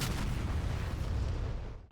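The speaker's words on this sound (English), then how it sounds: "The horrifying shriek of a 30mm GAU-8 Avenger cannon." An A-10 Warthog's 30mm GAU-8 Avenger rotary cannon fires in the DCS flight simulator: a loud, continuous, heavy roaring burst lasting nearly two seconds before tapering off, with no voices.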